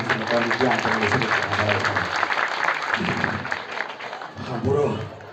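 Audience clapping at a Balinese calonarang temple performance at Pura Dalem Petulu in Gianyar, loud and sustained, with speech breaking through in between.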